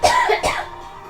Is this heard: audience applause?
no